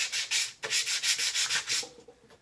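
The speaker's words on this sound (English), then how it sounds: "now you have a sanding block. And you can do it like this." Rhythmic back-and-forth scratching of 60-grit sandpaper on a sanding block against a wooden guitar neck, about a dozen quick strokes, close and fairly quiet, fading slightly at the end.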